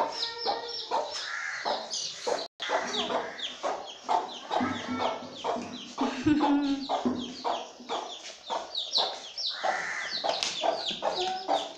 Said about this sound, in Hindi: मुर्गी का छोटे छोटे चूजे, ये देखो कमरे में आ गई है।